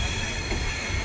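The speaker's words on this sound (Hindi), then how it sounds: "तो करीब 20 मिनट की देरी के साथ पहुंच रही है अपनी शहीद कप्तान तुषार महाजन उधमपुर स्टेशन पे अपनी स्वराज एक्सप्रेस।" The Swaraj Express pulling into Udhampur station (Shaheed Captain Tushar Mahajan station), giving a steady, loud rolling rumble of rail cars nearby with a constant wash of wheel and track noise.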